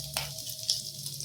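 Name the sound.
dried fish sizzling in oil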